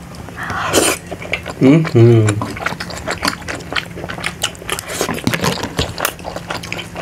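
Close-up eating sounds of buffalo momo dumplings, with chewing, bites and clinks of utensils against a dish, broken by a few short vocal noises.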